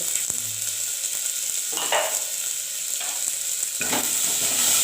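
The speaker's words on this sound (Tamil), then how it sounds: "போட்டு வதக்கிக்கலாம் ஓகே இப்போ நல்லா வதக்கிட்டு வதங்கட்டும்" Onions, tomatoes and garlic sautéing in a pan, with steady close sizzling and a few soft scraping strokes of a spoon stirring through the mix; no voices.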